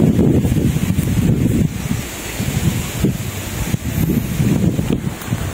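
Gusty wind blows across a hillside farm beside a river near rice paddies, buffeting the microphone in loud low rumbling surges that rise and fall, with no talking.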